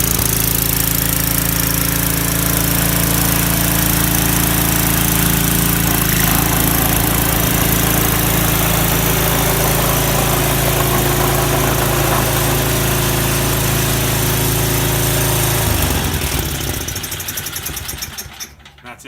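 A snowblower engine running loud and close with a steady, rough mid-pitched drone and vibration for most of the stretch, then cutting off and winding down near the end; no starter cranking is evident.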